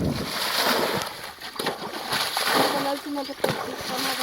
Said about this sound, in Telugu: ఆ గుంట్లో నుంచి గుంట్లోకి అయితే చల్లుతున్నారు